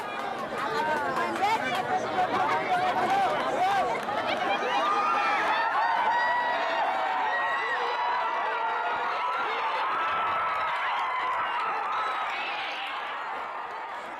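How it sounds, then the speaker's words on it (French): A crowd of villagers shouts and chatters during a Zanzibar bull game as the bull charges at them, a dense wash of excited voices and cries building steadily before easing off toward the end. "chaque charge du taureau déclenche des cris et des mouvements de foule"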